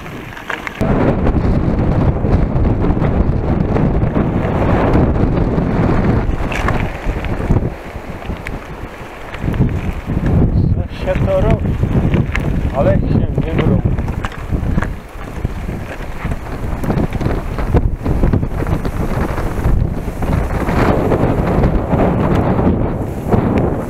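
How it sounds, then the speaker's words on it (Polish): Heavy rain pouring outdoors, driven by gusting wind, a dense, loud, steady roar with wind buffeting the microphone and no voices throughout. "Leje niestety"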